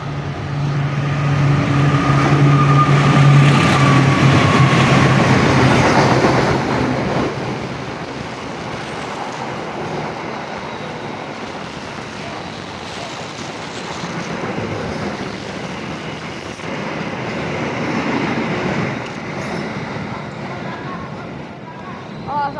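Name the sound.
CC201 locomotive hauling Dharma Wangsa train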